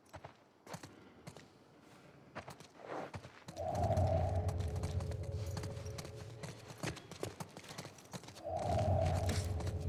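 Horse hooves clip-clop in The Last of Us Part II, scattered thuds at first, then a sustained stretch of louder hoof and movement noise, quiet and somewhat distant, with no talking.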